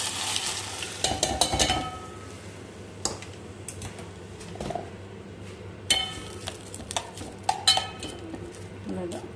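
Mustard seeds and curry leaves sizzle in hot oil for an onion pickle tempering, crackling and spattering in bursts close by, with spoon and pan clinks and short intervals of quieter hiss.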